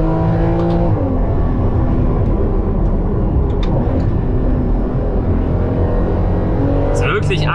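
Porsche Cayman 981 with 2.7 engine and PDK gearbox at full throttle, a loud steady engine roar from the cabin with a gear change near the start, and someone speaking over it.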